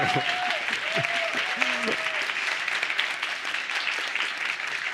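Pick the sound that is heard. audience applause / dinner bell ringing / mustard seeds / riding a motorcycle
audience applause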